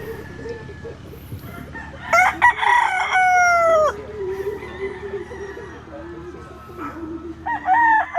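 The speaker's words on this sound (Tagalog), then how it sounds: "Mga manok dito" Sweater gamefowl roosters crow repeatedly over a busy farmyard background, with several drawn-out crows at moderate distance and hens clucking in between.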